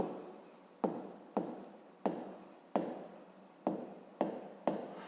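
A pen or chalk writes out a math solution in a series of about seven sharp strokes, each a quick scratch fading off, evenly spaced and close, with no talk.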